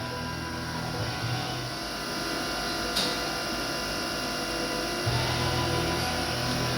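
A 2006 Milltronics VM16 CNC milling machine cuts a bevel with a 45-degree cutter, producing a continuous mechanical whir and drone with a faint tonal whine and a few brief clicks, steady throughout.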